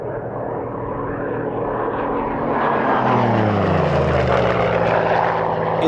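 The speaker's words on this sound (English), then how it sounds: "The final American fighter to display is the Bell P-63 King Cobra" A Bell P-63 King Cobra World War II fighter flies past at a Duxford airshow, its propeller engine droning steadily and loudly throughout, swelling with a falling Doppler-like pitch as it passes close overhead.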